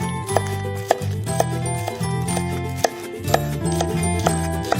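A knife slices squid into thin strips on a cutting board, giving a series of light, irregular taps and clicks over a steady, loud musical backing.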